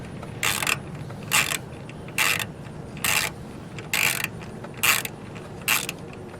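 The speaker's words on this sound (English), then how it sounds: "This is a 10mm socket, okay, and we're going to loosen this up." A ratchet wrench fitted with a 10mm socket loosens a car battery clamp on a Toyota Camry, giving seven evenly spaced bursts of close, crisp clicking, each lasting about a fraction of a second.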